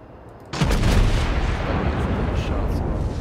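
Battleship artillery firing in the naval combat game World of Warships, with a US North Carolina battleship: a sudden heavy boom that rolls into a sustained loud rumble of gunfire and explosions.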